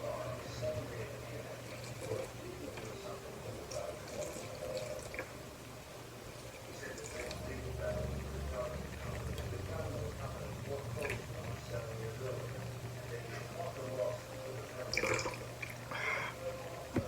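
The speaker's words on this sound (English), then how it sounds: "I'm adding 50 grams of water." Water is poured into a sourdough starter container in a home kitchen, a faint trickling and dripping that runs on for several seconds under quiet, muffled talk.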